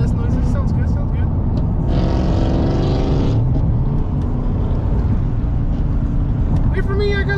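A car with an LS V8 engine on the road during a long road trip, its steady engine and road rumble continuous throughout, with a brief louder passing surge in the middle and people talking over it.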